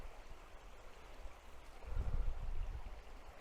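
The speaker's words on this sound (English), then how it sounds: "We've got the water here that's running down past this tree that's" River water running past a fallen tree on a walk around Midhurst in March: a steady low rushing flow that swells a little louder midway, continuous and near, with no voices.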